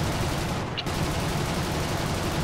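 Dense, continuous gunfire from aircraft in War Thunder, a loud steady rattling barrage with a brief dip partway through.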